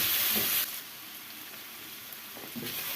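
Carrot halwa frying in ghee in a pan gives a steady, close sizzle with a brief louder burst at the start, then a quieter continuous crackle with faint stirring scrapes.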